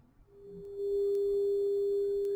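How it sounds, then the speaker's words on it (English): A steady pure test tone plays through a stereo system, fading in and then holding at an even, moderate level against faint background noise. "We're going to look at some test tones first, okay?"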